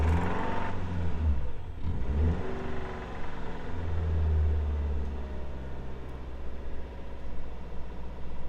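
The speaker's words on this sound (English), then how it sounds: "And now let's start the car." A Subaru car engine, suspected of an EGR fault and rough idling, turns over and settles into a steady, loud idle with a low rumbling drone that continues unbroken throughout, with no talking.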